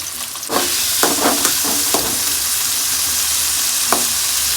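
Onion and tomato fry in a pan for a red belly fish curry, giving a steady bright sizzle punctuated by several quick spoon taps and stirring knocks, close up, with no speech.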